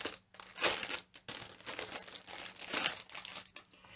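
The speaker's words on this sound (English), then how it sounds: "And it's in another plastic bag." Plastic bag crinkling close up while a skincare travel kit is unwrapped, bursts of crackling rustle in uneven handfuls, quiet and without talking.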